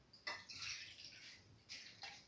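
Water is poured into a cooking pot for a red lentil and bottle gourd stew, with short splashing bursts close by and a brief pause between pours.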